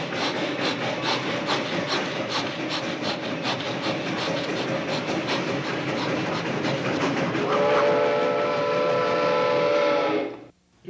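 A possessed character's voice in a horror film imitates a train with rhythmic chugging and a sustained whistle-like wail, steady and fairly loud for about ten seconds before stopping abruptly.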